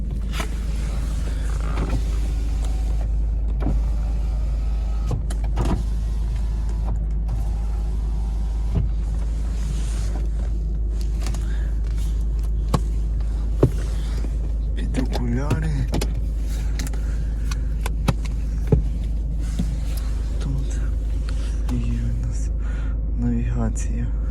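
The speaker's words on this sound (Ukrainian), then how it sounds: "Всі чотири віконця у нас йдуть із доводчиками." Power windows with auto-close on a 2013 Ford Focus Titanium 1.6 HDI hum as they move, a faint motor whir inside a quiet cabin, with someone talking over it and occasional clicks.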